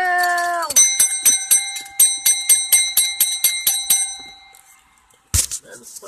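Berea College clock tower sounding its three-quarter chime, a rapid run of bright, ringing bell strokes with lingering tones, preceded by a brief voice-like sound and ending with a short clatter.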